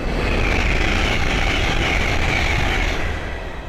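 A Class 802 working a Hull Trains service passes on the East Coast Main Line at Great Wymondley. It makes a loud, steady, close rushing roar that holds throughout and eases slightly at the end.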